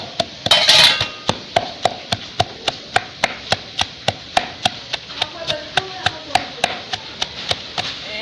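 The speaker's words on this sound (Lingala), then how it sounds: "nakanisi bomoni natuti ba épices na ngai" Spices are pounded in a mortar with a regular rhythm of about twenty sharp, evenly spaced thuds, close and clear, after a brief noisy rustle at the start.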